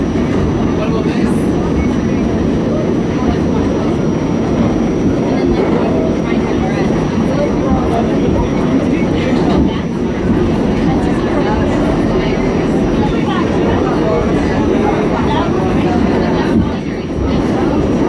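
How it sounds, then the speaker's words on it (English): A New York subway R46 G train rumbles steadily and loudly at close range, a dense continuous roar of wheels and motors with a faint high whine running through it. "No, this is the train I missed."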